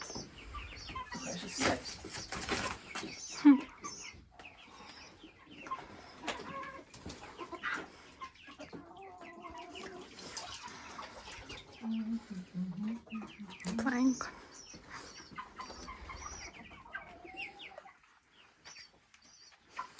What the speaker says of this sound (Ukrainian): Як наші курочки.